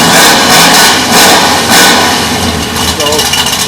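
A modified K10 Chevy truck engine revving hard through its exhaust pipe at close range, loud and rough with surging throttle blips over a constant rumbling drone.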